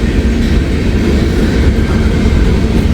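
A train reversing slowly over a switch, a steady loud low rumble of wagons and wheels with faint clicking from the rails, running continuously with no voices.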